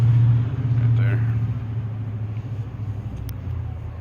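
Low, continuous rumble of rush-hour road traffic passing nearby, with someone talking over it.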